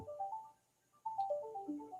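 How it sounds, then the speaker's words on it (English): A telephone plays a melodic electronic ringtone, two rising and falling phrases separated by a brief gap, clear and fairly close in a quiet room. "Let me grab this phone."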